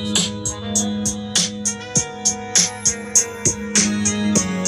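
A Monster DNA One portable speaker plays music at maximum volume, with loud, steady rhythmic beats and sustained tones filling the room without any talking.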